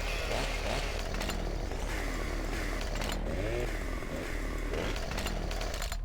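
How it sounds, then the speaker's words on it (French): A chainsaw cuts into a tree in Farming Simulator 2015, its loud, steady engine whine running continuously throughout with rising and falling rev strains as the blade bites, and no talk over it. "avec les tronçonneuses, bien sûr on peut couper l'arbre qui est juste là devant"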